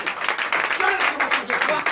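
Church congregation clapping at a Sunday service in Comè, Benin, a lively patter of hands in bursts alongside a voice.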